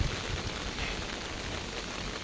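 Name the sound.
heavy rain falling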